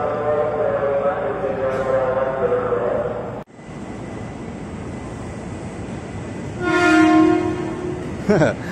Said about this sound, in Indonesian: Jalan dulu baru kasih klakson ya.